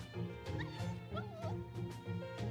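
Dog barking and yipping from the video game Fate Grand Order, short barks repeating over layered game music, with no speech.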